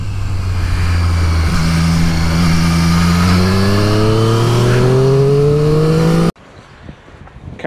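A 2023 Triumph Street Triple 765R motorcycle revs hard through a wheelie, its engine note climbing steadily in pitch across several gear pulls, loud and close, before the sound cuts abruptly to low wind noise.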